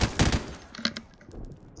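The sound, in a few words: M249 SAW light machine gun firing in video game COD4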